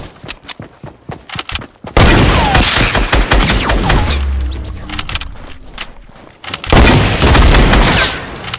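Gunfire in a console shooter game, rapid bursts of shots and booms crowding most of the span, loud and dense with brief quieter gaps between volleys.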